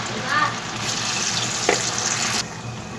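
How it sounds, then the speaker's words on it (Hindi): Potato pakoras deep-frying in hot oil on full flame, a steady, fairly loud hiss and sizzle with a brief crackle, heard close up without speech. "3 से 4 मिनट हो चुके हैं फुल फ्लेम पर हमारे पकोड़े फ्राई होते हुए"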